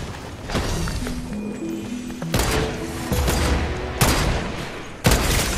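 Gunfire in the Fortnite video game, with sharp broadband bursts landing in several separate clusters amid busy game noise and music, fairly loud and up close.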